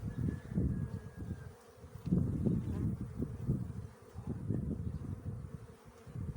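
Honeybees on a hive frame at the first inspection after winter hum in a thick, wavering buzz that swells and dips, close and fairly loud.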